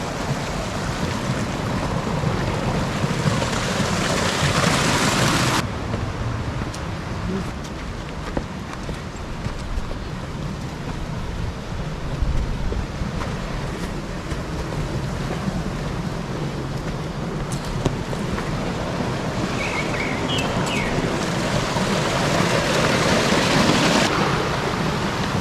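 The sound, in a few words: Ganga river water flowing from Gaurikund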